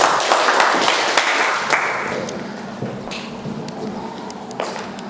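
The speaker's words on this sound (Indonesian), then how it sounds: "tepuk tangan untuk Sulasmi" A classroom of students claps for a classmate, a burst of scattered applause that starts fairly loud and thins out gradually over a few seconds, with sharp individual claps near the end.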